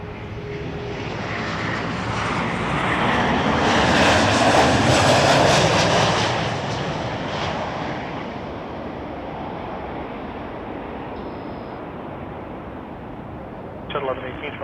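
Lufthansa A350 airliner engines roar at Toronto Pearson airport, a broad sustained rumble that swells to a peak and slowly fades, with talk over it.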